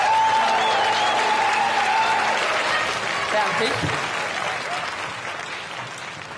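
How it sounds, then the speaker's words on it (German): An audience applauds for Schwester Lotte, sustained dense clapping that slowly fades, with voices and a brief spoken word heard through it. "dann bitte ich um Applaus für Schwester Lotte"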